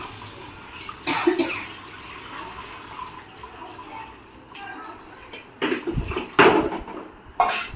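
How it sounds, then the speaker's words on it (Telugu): Tamarind juice is poured into a simmering fish curry, giving intermittent splashing and dripping bursts with light clinks of a pot, close by over a quiet kitchen background. "ఇప్పుడు మనం చింతపండు రసం పోసుకుందాము చింతపండు రసం పోసుకుంటున్నాం"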